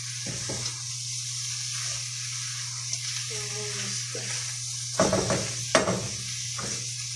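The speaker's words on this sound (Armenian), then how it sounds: "լավից ենք խառնում" A spoon scrapes and stirs food in a sizzling pan, a few clattering strokes over a steady frying hiss and low hum, with a voice briefly speaking nearby.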